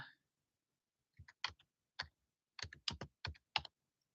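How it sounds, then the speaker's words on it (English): Sparse keystrokes on a computer keyboard sound as a handful of distinct, close clicks. They come alone or in quick pairs with gaps of silence between them. "I'm going to type in"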